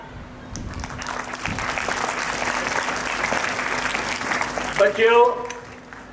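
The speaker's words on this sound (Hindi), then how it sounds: "थोड़े लिए जोरदार तालियां।" An audience at a school Mother's Day celebration claps vigorously, building into sustained applause that peaks and then fades, with a voice speaking briefly as it ends.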